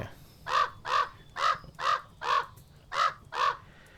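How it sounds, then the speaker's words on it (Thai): A crow in the horror farming video game Pumpkin Panic gives seven evenly spaced, loud harsh caws in a steady rhythm over a quiet background. "เราต้องมาพูดกับอีกาเลยเนี่ย"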